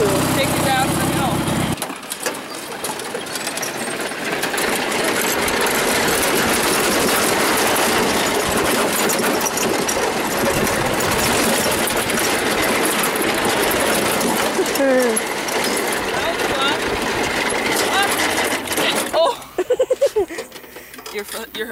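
A tractor engine runs with a steady, loud rumbling drone during tractor sledding, cutting out near the end, with voices talking over it.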